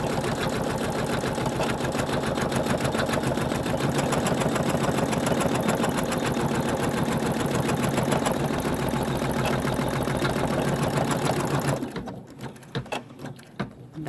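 An embroidery machine stitches a 3D in-the-hoop star Christmas ornament, its needle hammering in a fast, steady mechanical rhythm up close before stopping abruptly near the end.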